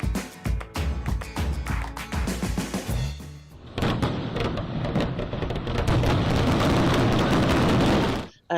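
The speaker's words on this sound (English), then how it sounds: "This particular event is the 45th annual fireworks at the fountain." Fireworks bursting at the 45th annual Fireworks at the Fountain show in Florida ahead of Independence Day: dense, loud rolling booms and crackling pops in rapid succession, building to a continuous roar of overlapping explosions before cutting off.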